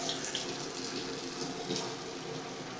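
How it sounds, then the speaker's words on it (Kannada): Water pours into a wet grinder holding idli batter in a kitchen preparing hotel-style thatte idli, heard as a steady, fairly faint splashing hiss with no talk. "ನೋಡಿ ಅದರಲ್ಲಿ ಈಗ ನೀರು ಹಾಕ್ಕೊತಾ ಇದ್ದಾರೆ."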